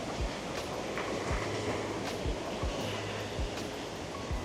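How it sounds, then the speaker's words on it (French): Loud, continuous rush of a flooded river swollen by heavy rain, a broad steady roar close by with low thumps and surges running through it, no voices. "Le son que vous entendez, c'est une rivière à côté de moi, qui est pleine d'eau tellement il pleut."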